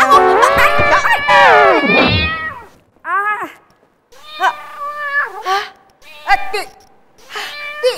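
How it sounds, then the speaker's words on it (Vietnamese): A cat meows repeatedly indoors, a long loud wailing cry followed by several shorter, sharper meows with brief pauses between them, close and clear. "tiếng mèo kêu"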